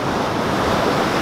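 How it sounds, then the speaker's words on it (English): Atlantic Ocean surf washes onto a beach as a steady, loud roar of breaking waves mixed with wind buffeting the microphone, with no voices. "There's a nice Atlantic Ocean, a nice"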